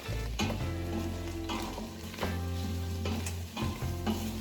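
Onions, garlic and ginger sizzle steadily in a hot pan with a few stirring scrapes and a low continuous hiss underneath, close and fairly loud, with no voices.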